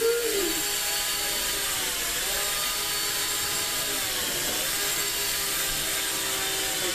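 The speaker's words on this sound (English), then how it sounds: "All right, so there's the drone flying." A drone flies overhead in a snowy outdoor setting, its steady high-pitched rotor whine droning continuously with slight pitch bends as it moves, no talk.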